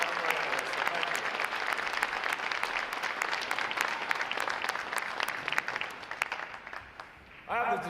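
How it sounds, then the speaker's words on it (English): A large audience at a Navy boot camp graduation ceremony claps for award recipients, with dense, sustained applause close and loud before a voice begins speaking near the end. "how about a round of applause for our unit and individual award recipients for outstanding work and hard effort"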